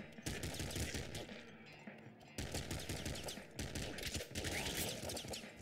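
Rapid, dense bursts of crossbow bolt fire and impacts in the top-down shooter Nuclear Throne, loud and near, with brief gaps between volleys and a steady electronic tone running underneath.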